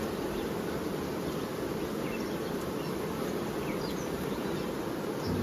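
Honey bees swarm around an open hive, giving off a dense, steady hum that stays even and close the whole time, with no talk over it.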